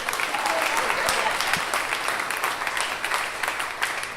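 A room full of people at a 1 Million Cups gathering breaks into sustained applause, a dense, even patter of many hands lasting the whole stretch.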